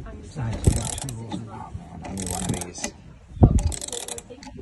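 A harmonic balancer gear puller working on a compressor motor shaft, giving close metallic ratcheting clicks and clanks in short bursts, with a voice talking in between.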